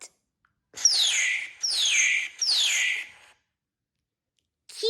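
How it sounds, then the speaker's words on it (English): A parrot call from an animal sounds app: three loud, repeated descending squawks in close succession, each about half a second apart, followed by silence and a brief start of another call at the end. "P is for parrot."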